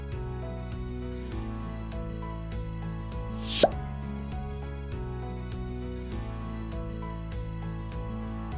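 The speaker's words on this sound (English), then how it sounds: "Then we spoon our lemon butter all over the fish." Lemon butter is spooned over fish with one brief, soft plop midway, heard over a steady musical background.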